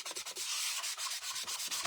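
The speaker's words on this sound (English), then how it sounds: "sand that blue just a little bit." Sanding block rubbed back and forth over blue-painted wood, a rapid rhythmic rasping scrape close up with no voices.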